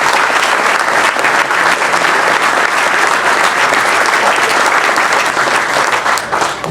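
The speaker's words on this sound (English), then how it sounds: "How about a big round of applause for everyone at Wollaston Golf Club" Dense, loud round of applause from a crowd at a golf club outing dinner, continuous clapping that fills the room evenly from start to finish before tapering slightly at the end.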